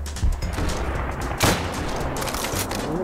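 Gunfire and booming explosions in a Roblox World War II game, a busy, loud mix of shots with a heavier blast partway through, no voices over it.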